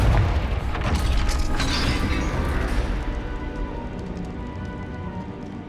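A fire spell blasts in Hogwarts Legacy, a loud, sustained booming explosion with crackling debris that rumbles for about three seconds before fading into a softer, rain-like rushing tail.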